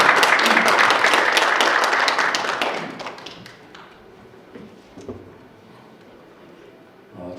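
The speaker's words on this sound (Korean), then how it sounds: "박수로 맞아주십시오." Audience at a Korean symposium claps to welcome a speaker, a loud burst of applause for about three seconds that quickly dies away into quiet room noise with a few stray taps.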